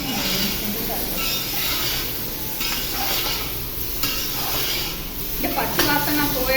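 Paneer pieces frying in a pan until golden, giving a steady sizzling hiss with occasional utensil clinks while someone talks throughout.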